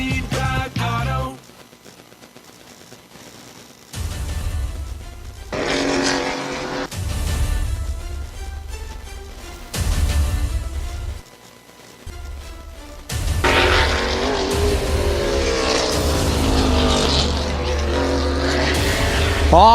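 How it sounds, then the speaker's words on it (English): NASCAR Cup Series race cars testing on the Charlotte Roval road course roar past one after another, with loud engine bursts, rising and falling pitch, and gaps between passes. "Oh, the sound of those cars."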